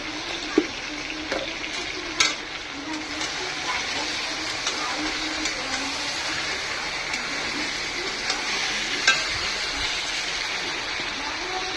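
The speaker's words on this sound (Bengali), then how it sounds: "তো এবার এটাকে নাড়াতে হবে, এটাকে মিশিয়ে দিই।" A chicken curry with Kashmiri chilli powder and spices is stirred in a pan, making a continuous close sizzle with scraping spoon strokes and occasional sharp clicks against the metal, with no speech.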